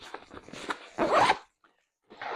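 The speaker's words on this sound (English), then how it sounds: "I'm going to zipper up the bag." A travel bag's zipper is pulled closed in several quick, close rasping strokes, one longer pull standing out, followed by a brief pause and another short zip.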